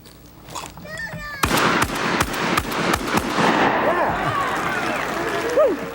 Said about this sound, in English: Now Harry goes for 7. He's going to have to shoot fast.